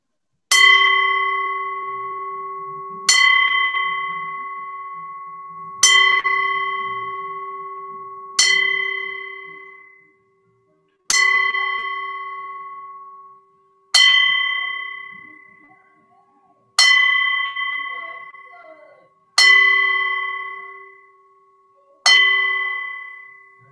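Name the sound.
ten-bell salute, bell rung ten times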